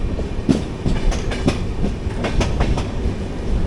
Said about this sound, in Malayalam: ട്രെയിൻ അങ്ങോട്ട് ഓടിച്ചെല്ലുന്നു.